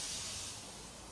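Thomas-style blue tank engine Edward arriving with a steady, loud hiss of released steam that fades slightly, with no distinct puffs standing out.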